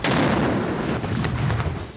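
Cannon salute fired for Pakistan Day in the federal and provincial capitals, a loud, dense, booming rumble of heavy gunfire that fills the whole moment without pause.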